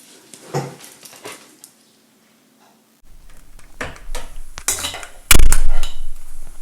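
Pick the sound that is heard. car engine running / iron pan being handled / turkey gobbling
iron pan being handled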